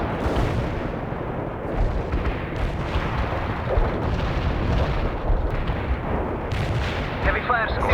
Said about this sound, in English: Heavy fire support. Artillery coordinates confirmed.